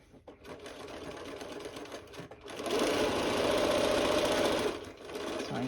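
Sewing machine stitching a lunch bag, with short bursts at first, then a steady, close, continuous whirring run of a couple of seconds before it stops and briefly restarts.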